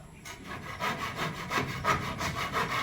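A hand saw cuts through wood in steady back-and-forth strokes, rasping at an even rhythm, close and clear with no talking.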